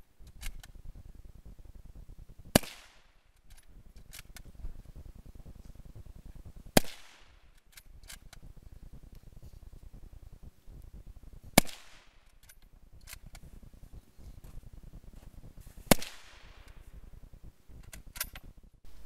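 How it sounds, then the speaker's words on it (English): Four crisp rifle shots fired from a cramped bunker at a Winter War commemorative shooting competition, evenly spaced a few seconds apart. Each sharp crack is followed by a brief decaying tail, with quiet background between shots. "Here I start shooting from the rather cramped bunker."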